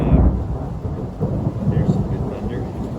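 Deep rolling thunder rumbles over steady rain, loud and continuous, with a brief higher rustle partway through.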